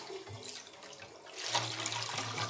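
Sanitizing solution poured out of a homebrew beer bucket, a continuous splashing gush of liquid that grows louder and fuller midway, close by with no talking.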